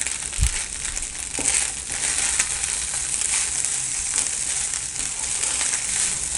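Rice sizzling in a pan on a low simmer as spice powder is added, making a continuous close frying hiss with soft crunchy stirring textures and a brief low thump near the start.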